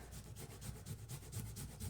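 Fresh ginger rubbed against a grater in quick, regular rasping strokes, about five per second, close and faint with no talk.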